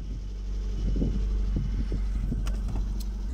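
A Peugeot 106 engine idles steadily with a low, continuous rumble and a few irregular clatters over the top. There is no talk.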